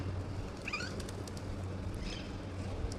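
A pigeon cooing on a balcony, two soft, brief calls heard faintly over a steady low hum of background noise.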